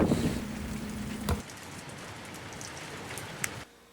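Steady rain falls outdoors onto a soaking-wet scene, a dense hiss with scattered drop impacts. A low hum sounds early, and the hiss cuts off abruptly near the end.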